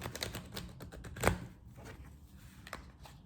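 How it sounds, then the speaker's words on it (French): A deck of tarot cards shuffled rapidly and roughly by hand, quick papery flutters and snaps with one sharper burst in the middle, fairly quiet and close. "je maltraite un peu mes jeux, mais ça permet de battre les cartes assez rapidement"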